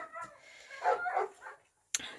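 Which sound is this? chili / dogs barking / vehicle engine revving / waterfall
dogs barking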